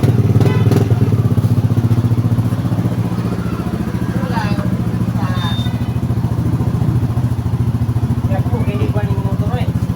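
A Yamaha Aerox scooter engine, just repaired after failing to start, runs steadily nearby with a fast, rattling putter, while people talk over it.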